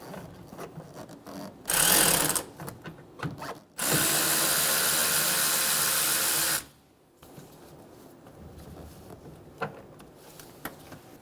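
Bursts of a socket wrench or power driver backing out the 10mm radiator fan shroud bolts on a 2005-2015 Toyota Tacoma 2.7L, two loud sustained runs with quieter clicks and handling noise between, close up and with no talk.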